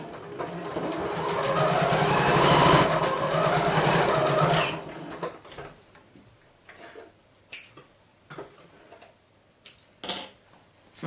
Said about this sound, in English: Place that under the needle, and we're going to stitch right on the very edge and get as close to the edge as we possibly can.